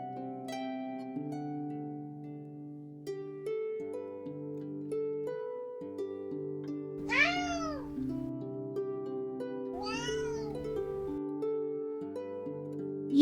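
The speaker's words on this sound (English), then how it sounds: "Cat is yelling at me." A cat meows twice over steady game music, with two rising, wavering calls a few seconds apart, clear but not loud.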